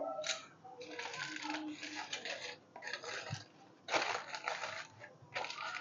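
Aluminium foil crinkles and crackles as it is handled and pressed down over a container. The bursts of rustling are close and irregular, with short pauses between them, and a voice is faintly audible underneath.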